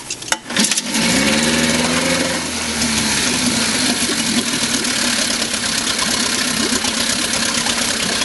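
An original 1956 Scott-Atwater 7.5 horsepower outboard motor is pulled to start, catches within a second, and settles into a loud, steady, even idle that continues unbroken at close range.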